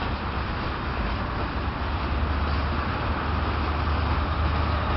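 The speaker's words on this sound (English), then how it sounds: "We got some sky train action and we got some ground train action." Trains rumble past, a sky train overhead and a ground train below, a steady low continuous roar of rail traffic with no talking.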